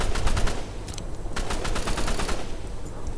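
Rapid bursts of automatic gunfire from the Roblox shooter game Rivals, several quick volleys close and sharp over a busy game background, with no talk.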